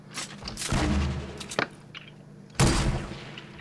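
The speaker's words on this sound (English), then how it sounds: "they're shooting stuff at us." Gunfire from the Fortnite video game arrives as two sharp, loud bursts with a short ringing tail after each, set against steady in-game background noise.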